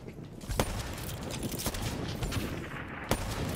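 Sniper rifle shots in Black Ops 3, two sharp cracks spaced a few seconds apart over a busy backdrop of distant gunfire and game ambience.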